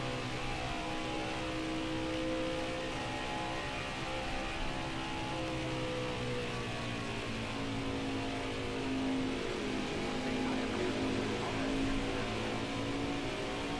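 Race car engines in the NASCAR Heat 5 game at Pocono drone continuously at a steady, moderate level, with slowly shifting pitch as cars run near pit road and no talk over them.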